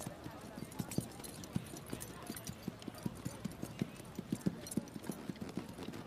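Horse hooves clip-clop steadily on an arena surface during a para-equestrian dressage test, the even rhythmic footfalls clear and fairly close over a soft ambient background, with no talk.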